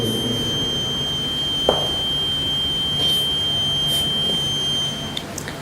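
An alarm sounds as a steady, thin high-pitched electronic tone, running almost unbroken under a noisy indoor room hum, with a few faint clicks near the end.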